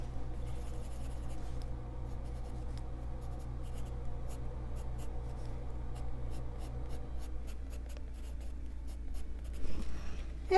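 A yellow colored pencil scratches across the tooth of paper in quiet, repeated short strokes, close and soft, with a faint low hum underneath and no talking.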